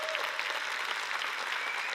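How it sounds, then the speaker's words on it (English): Dense applause from a conference audience at a WorldPride Amsterdam 2026 human rights event fills the room: steady, close clapping from many hands with no break. "Massive round of applause"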